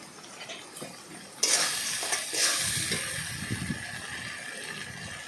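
Spices such as turmeric and chili powder sizzle and fry in a pan while being stirred, a sudden loud hiss followed by steady frying and scraping of the spoon against the pan, close and without speech.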